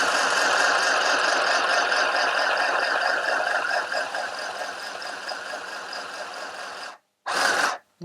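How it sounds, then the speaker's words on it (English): An Ambiano mini sewing machine running in reverse stitch, a steady close whirring motor hum with rapid needle chatter that holds for about seven seconds, stops abruptly, then gives one short final burst. "I'm just going to reverse stitch to lock that in at the end there as well."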